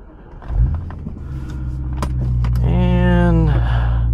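A 2011 BMW M3 Competition Package engine cranks and fires, settling into a steady rumbling idle that swells in pitch near the end, heard up close with some background speech.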